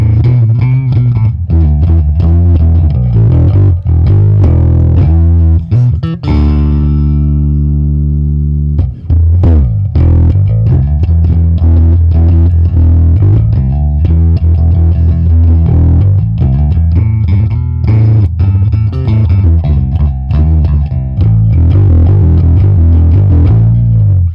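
Guitar played through a Boss Katana 50 MKII amplifier on its acoustic channel: loud, continuous strummed chords and picked notes with a clean, bright ringing tone, including a sustained chord partway through, with no talking.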